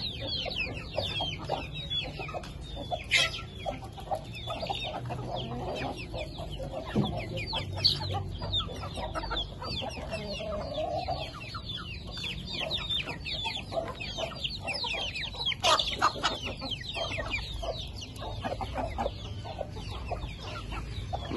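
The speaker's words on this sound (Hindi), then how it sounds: "बाहर छोड़ दिए मुर्गों को" Farm chickens let out of their coop after many days, clucking and calling in a lively scattered chorus with occasional louder squawks and a rooster's note, steady throughout at moderate distance.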